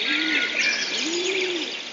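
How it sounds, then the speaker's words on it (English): Birds chirp and tweet in a busy, continuous chorus, with a couple of low cooing calls underneath, close and fairly clear. "you're only supposed to hear the chirping"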